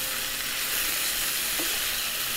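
Half tablespoons of carom seeds and cumin sizzle in hot oil in a pan, a steady close crackling hiss with a faint stir partway through.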